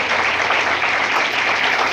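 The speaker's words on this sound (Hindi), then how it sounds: "आइए सबसे पहले हम लोग ताली मारेंगे प्रभु यीशु मसीह को।" A church congregation claps together for Jesus Christ in a loud, dense burst of applause that fills the space and holds steady throughout, with no voices rising above it.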